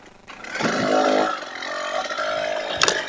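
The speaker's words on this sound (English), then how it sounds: "Man, I like the acceleration of a two-stroke." A KTM 300 TPI two-stroke dirt bike engine revs up steadily, its raspy buzzing note held loud and close for about three seconds with some rattle and scraping.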